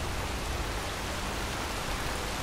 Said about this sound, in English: Oop, it's starting to rain out.